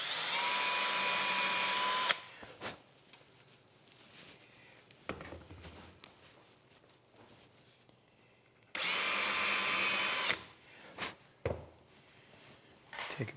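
Power drill boring into wood through a wood hinge drill jig during box building, in two loud, steady bursts of about two seconds each, separated by quiet handling knocks and clicks.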